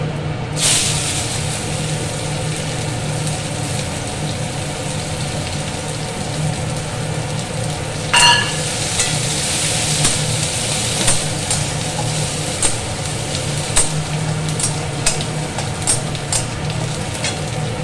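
Dried red chili and chopped onion frying in hot oil in a pan, a continuous close hiss under a steady low hum, with a sharper crackling burst midway and scattered pops after, no voices.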